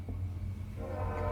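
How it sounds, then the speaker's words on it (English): Train passing outside a room, a low steady rumble with a faint horn-like tone, distant and continuous, heard alone. "sorry if you can hear the train outside"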